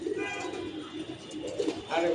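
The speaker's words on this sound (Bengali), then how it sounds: "কবুতর এখনও বামে বসা, এগুলো মাত্র নামলো উপর থেকে।" Pigeons that have just landed coo softly and repeatedly in low, throaty murmurs against a steady outdoor background.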